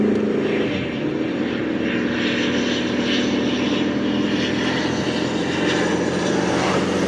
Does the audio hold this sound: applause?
no